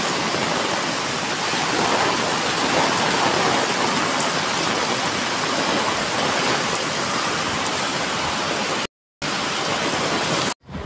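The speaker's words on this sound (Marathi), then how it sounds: "म्हणजे वादळ वाऱ्यासकट पाऊस आहे" Loud, steady downpour of wind-driven rain in Mumbai roaring close by, a dense wash of rain noise with no voices, briefly cutting out near the end.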